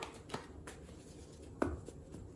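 Tarot cards shuffled by hand, soft papery riffles and a couple of sharper slaps, quiet and close with no talk.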